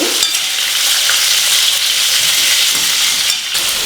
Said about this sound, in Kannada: ಈಗ ಕಟ್ ಮಾಡಿರುವಂತಹ ಈರುಳ್ಳಿ ಹಾಕ್ತಾ ಇದ್ದೀನಿ.